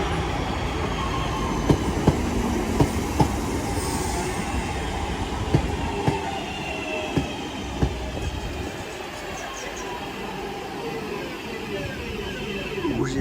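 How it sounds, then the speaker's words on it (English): A British Rail Class 323 electric train arrives at a station at Newton-le-Willows, a continuous close rumble of wheels with regular clicks as the carriages pass over rail joints, fading slightly toward the end. "Train now arriving in is a 323 going to Manchester Airport."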